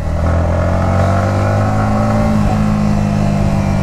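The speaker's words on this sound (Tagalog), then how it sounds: "Pero pag rev mo na ng kanyang throttle," A Yamaha MT-15 motorcycle engine revs loud and close as the throttle is held open, a steady high droning roar with no talk over it.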